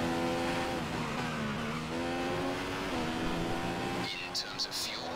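Formula 1 race cars scream along the track in the F1 2015 video game at the Russian round, a continuous high engine whine with shifting pitch as the car accelerates and brakes, with a few faint knocks near the end.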